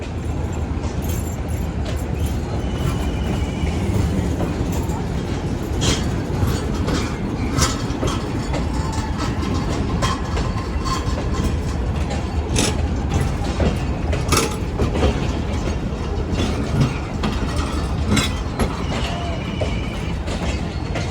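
The Thar Desert Safari Train in Sindh rolls along on its inaugural run with a loud, steady rumble, rhythmic clickety-clack of wheels on track and occasional metallic squeals, no voices.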